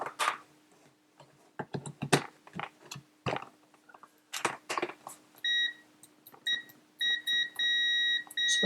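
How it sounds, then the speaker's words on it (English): A TIS570 AC/DC earth leakage clamp meter's continuity buzzer sounds as a fairly loud, steady electronic tone in repeated bursts of varying length, after a stretch of clicks and handling noises. "It's a fairly loud buzzer, but not particularly fast."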